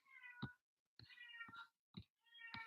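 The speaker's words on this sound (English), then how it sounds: "I don't know if you guys can hear my cat in the background." A cat meows four times in the background, each call short and rising, spaced about half a second apart with quiet gaps between, faint and alone.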